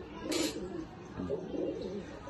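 Pigeons in a loft coo softly in low murmuring bursts, with a brief higher flutter or chirp near the start, fairly close and steady under faint background noise.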